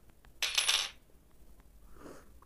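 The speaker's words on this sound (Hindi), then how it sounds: "और ये दोबारा चाबी फेंकूंगा।" A key is thrown in the Granny video game and lands on the floor with a single bright metallic clatter, followed by a fainter second clink.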